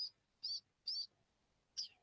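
A long-tailed shrike gives its early-morning territorial call, four sharp high chirps spaced irregularly over about two seconds, clear and close against a near-silent background.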